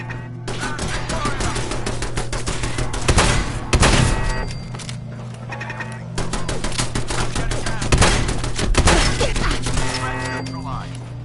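Turret gunfire in Fallout 4 rattles out in loud, sustained automatic bursts with sharp impacts and brief gaps between volleys.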